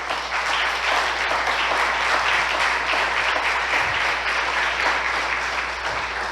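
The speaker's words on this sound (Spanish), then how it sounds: "Denle una ofrenda de palmas a Dios." A church congregation applauds during a sermon in a steady, full roar of many hands clapping at once, loud and sustained without a break.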